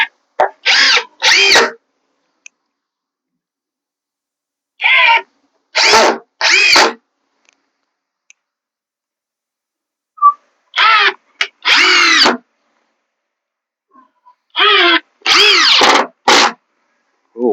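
A power drill drives screws into the wood of a kids' sandbox with benches, close whining bursts in pairs and triplets separated by silent pauses.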